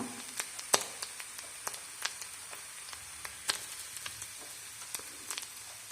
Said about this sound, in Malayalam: കുറച്ച് തേങ്ങ വെളിച്ചെണ്ണയിൽ ഒന്ന് മൂപ്പിച്ചെടുക്കാം.